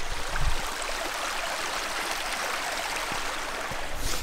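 A river reached by a downhill hike rushes steadily nearby, a continuous broadband roar of flowing water with a couple of faint knocks and no voices.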